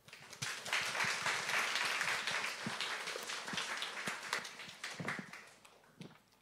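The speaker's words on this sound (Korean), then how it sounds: "힘찬 박수로 목사님 환영해 주시면 좋겠습니다" A congregation at a Sunday worship service of a Korean church in Ho Chi Minh City welcomes a pastor with a burst of applause. It is fairly quiet and distant, swelling quickly, then thinning into scattered claps before fading.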